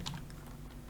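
Keystrokes on a computer keyboard, including the F4 key, during Excel spreadsheet work: several soft, close clicks within one second, with a sharper tap at the end and no talking.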